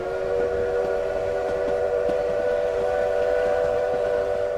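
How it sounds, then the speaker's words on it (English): A train whistle blows at a rural crossing on a sleety night, a steady, loud, sustained tone that holds for the whole stretch with no voices over it. "Again the whistle blew."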